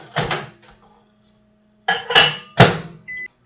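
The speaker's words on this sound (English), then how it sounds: "I'm going to put these in the microwave for about 1 minute so they'll heat up." Kitchen microwave oven running to heat food for a breakfast wrap, with clunky door and latch thuds, a humming run, and a short electronic beep near the end.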